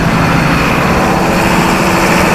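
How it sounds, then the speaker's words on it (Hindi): An 82 kVA diesel generator engine runs close by with a loud, steady rumbling drone that holds even throughout, with no voices over it. "इंजन एकदम बहुत बढ़िया चल रहा है"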